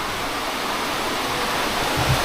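A clear river at Calawagan Mountain Resort in the Philippines rushes in a steady, broadband wash of flowing water, constant and close with no voices.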